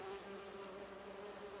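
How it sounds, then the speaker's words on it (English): Holographic bee wolves in the Spider-Man 2 video game give off a faint, steady insect buzz with a sustained tonal drone and no voices over it. "Do you see those little holographic bee wolves?"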